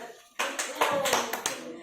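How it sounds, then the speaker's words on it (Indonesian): Classroom students break into a short burst of hand clapping after a brief quiet moment, crisp claps overlapping with children's voices. "Oke, beri tepuk tangan."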